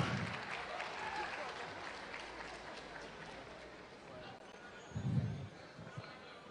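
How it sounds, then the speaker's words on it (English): Audience applause at a Ghanaian music awards ceremony, steady clapping from a crowd spread across the whole stretch, with a swell near the end, while an emcee's voice carries over the hall. "Oh, come on then, put your hands together"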